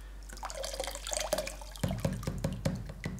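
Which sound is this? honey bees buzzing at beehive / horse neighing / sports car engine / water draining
water draining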